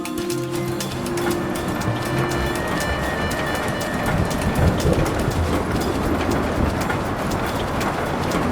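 Train rumbling and clattering along the tracks in the video game Saboteur, a steady loud rolling noise with a brief high whistle-like tone early on, building slightly in the middle.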